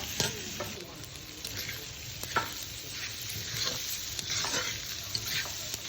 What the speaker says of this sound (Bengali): এখন আবারও নেড়ে চেড়ে ভালো মতো মিশিয়ে নিচ্ছি।